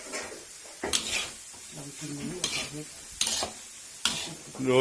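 Shallots and garlic stir-fried in a hot pan for a Thai fish dish, soft sizzling broken by repeated scraping clacks of a spatula, close by and fairly quiet.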